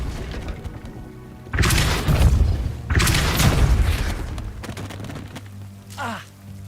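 A Depulso spell blasts in Hogwarts Legacy as two heavy, booming bursts about a second apart, each swelling and fading, followed by a fainter whooshing effect. The sound is close and loud with no talk over it.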